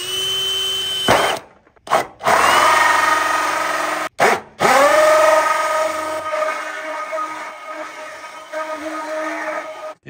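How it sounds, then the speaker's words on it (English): A power drill whines and grinds as a Harbor Freight hole saw bites into corrugated metal siding, stopping and restarting a couple of times with a resonant squealing tone. "We're gonna try to drill it out with a hole saw."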